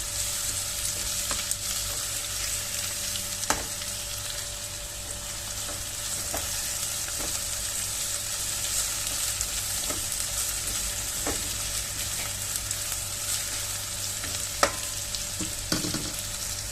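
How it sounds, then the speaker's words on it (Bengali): Onions fry in oil for a Dhaka-style mutton tehri, giving an even, steady sizzle across the whole stretch, with a few soft knocks and scrapes from occasional stirring. "অনিয়নগুলো ভালো করে কষিয়ে নেব"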